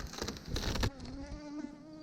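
Honeybees buzzing in a hive during autumn hive care, a busy droning hum with some brushing or handling noise early on, then a clearer steady buzz with shifting tones.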